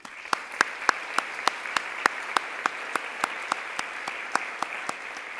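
Sparse, rhythmic clapping at an awards symposium for women in clean energy, individual claps evenly spaced at a moderate distance over a quiet room hush.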